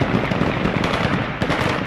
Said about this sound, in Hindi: ये हवाई फायरिंग करते हुए देखिए तालिबानियों का ये जश्न